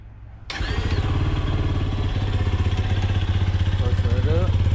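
A brand-new Grom clone minibike engine cranks and catches on its first start, then settles into a loud, steady, close idle with a rapid thumping pulse and slight rises in revs.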